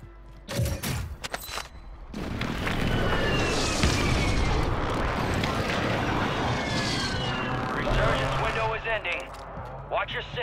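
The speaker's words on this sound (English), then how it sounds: "Enemy precision airstrike." Precision airstrike explosions in a Call of Duty match roar as sustained, loud booming blasts for most of the stretch, with a jet-like rush over the top and game voice chatter mixed in.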